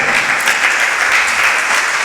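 An audience claps at a religious discourse, dense steady applause filling the space, fairly loud and unbroken by any voices.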